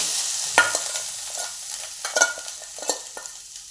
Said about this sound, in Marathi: एक दोन चमचे तूप टाकून घ्यायचं तर आता ह्याच्यामध्ये टाकून घेऊया हे खोबरं